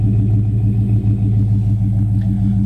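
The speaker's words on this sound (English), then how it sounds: "Motor sounds really healthy and it runs excellent." A 1967 Plymouth Belvedere engine idles steadily nearby, a loud, even low rumble with a faint clatter and no voices over it.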